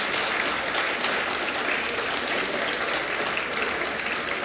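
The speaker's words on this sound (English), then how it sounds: "One round of applause for our students." Students receive a round of applause at a school board of education meeting, the clapping a continuous even patter from a roomful of people that holds for several seconds without speech.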